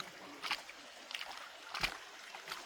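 Cool water trickles and splashes through Hancock Gorge in a rocky canyon, a faint, soft flow broken by a few small sloshing bursts.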